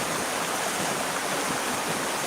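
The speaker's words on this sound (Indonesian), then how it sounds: "ini sungai inilah yang menuju ke Sunggal" A river in Kutalimbaru flows toward Sunggal, a steady, close, full rush of water with no breaks and no voices.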